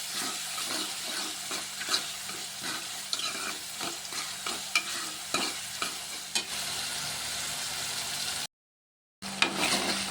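Tomato and onion frying with turmeric and salt in a pan for Kathiyawadi-style oro, or baingan bharta, stirred with steady scraping strokes over a constant sizzle, briefly cut off near the end.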